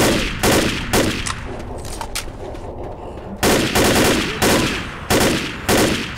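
Rapid automatic gunfire bursts from the Left 4 Dead video game at a construction site, loud sharp volleys repeating in several clusters with brief gaps between them.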